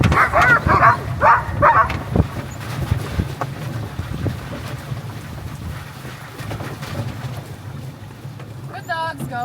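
Sled dogs barking while pulling a dog sled near Juneau, Alaska, with several sharp barks early, then wind and runner noise, and a man calling commands to the team.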